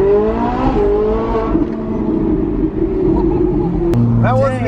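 A naturally aspirated car engine revs hard under acceleration, loud and close, its pitch climbing and then holding, with excited talk over it.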